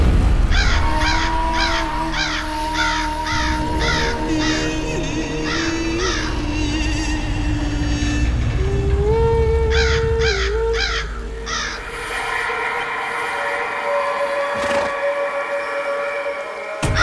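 Several crows caw in quick repeated bursts, harsh and fairly close, set against a sustained tonal drone and background ambience, with pauses between the cawing volleys.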